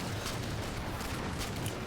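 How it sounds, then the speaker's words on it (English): Broad, sustained roar of an explosion in the Halo 4 video game, dense and loud throughout with no clear onset or pause. "It jumped into the explosion."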